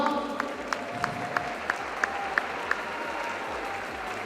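A crowd at a Silesian MMA event applauds the fighter Dawid with faint, steady clapping, while sharp, evenly spaced beeps or clicks ring out above it for most of the stretch.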